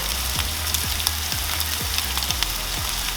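Fish fillets for fish piccata browning in a hot pan, giving a dense, steady sizzle with a regular series of soft popping crackles over it, close up and with no voices.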